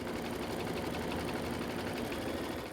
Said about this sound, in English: Embroider the design.